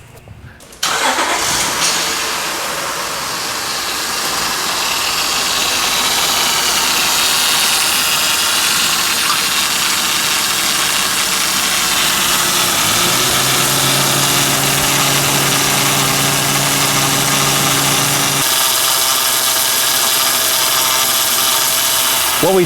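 A Honda engine cranks and then idles steadily with a freshly rebuilt power steering pump, carrying a loud continuous mechanical whine and drone up close that shifts pitch partway through, with no talking.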